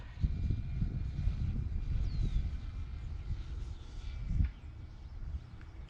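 A smaller remote control airplane flies at dusk just after takeoff, its engine and propeller making a steady, moderately loud drone with wind-buffeted rumble and no talking.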